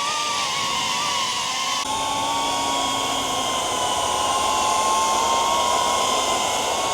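A constant high-pitched whirring buzz of a DJI Avata 2's Master Airscrew Stealth propellers hovering nearby, steady and fairly loud, with a slight pitch shift partway through.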